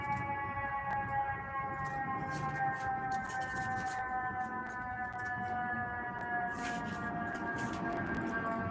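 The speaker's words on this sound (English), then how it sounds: "Hear them sirens?" Distant sirens wail outside, holding steady sustained tones that drift slowly in pitch, faint and continuous beneath a low background rumble, with scattered clicks and no voices.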